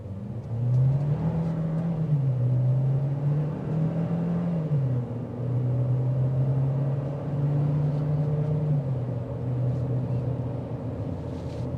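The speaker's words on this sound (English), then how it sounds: "You're going to hear the engine escalate quite a bit" A 2026 GMC Terrain AT4's small turbo four-cylinder engine accelerates steadily from inside the cabin, its low drone rising and falling in pitch with gear changes, loud and continuous with no talking.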